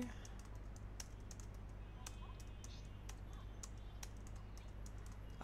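Typing on a computer keyboard: rapid, irregular clicks of keys struck close by over a steady background hum, with no speech.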